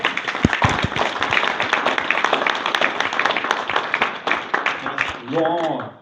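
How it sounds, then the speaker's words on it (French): A hall audience applauds a retiring employee receiving a vermeil long-service medal at a mayor's New Year reception in a French town; steady dense clapping with scattered sharper claps, then a voice speaks as it ends. "Voilà, on peut l'applaudir."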